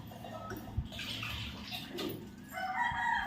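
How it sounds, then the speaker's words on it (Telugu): A rooster crows in a village setting at morning, fairly loud over a background of running or splashing water and clucking fowl. "కోడి సౌండ్ చూడండి, కోడి కూత ఎంత పెద్దగా వినిపించిందో"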